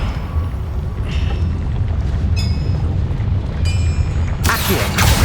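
Spell explosions from Hogwarts Legacy burst as sharp, bright blasts over a constant low rumble, with several distinct hits spaced across the stretch and the loudest near the end.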